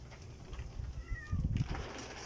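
A cat meows outdoors near a fence and wall, a couple of short mid-pitched calls over a low rumbling background, fairly faint and brief.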